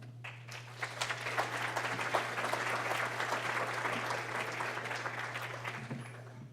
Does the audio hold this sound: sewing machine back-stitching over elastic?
no